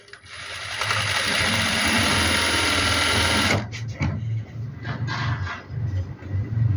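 A sewing machine stitches along the neckline of a printed suit. It whirs in one continuous run for about three seconds, then sounds in shorter, stop-start bursts close by, with no talking.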